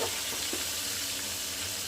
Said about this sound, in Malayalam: ഇനി നന്നായി ഇളക്കി യോജിപ്പിക്കുക.